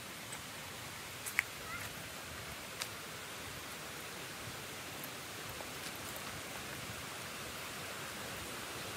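A waterfall rushes in a steady, faint, broadband roar heard from a distance in an outdoor spot near cottages, with a few small clicks and no talking.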